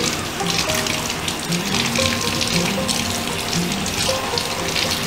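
Tie-dyed cushion cover and table runner fabric rinsed under a running tap, a steady close splashing gush of water into a sink that continues unbroken throughout.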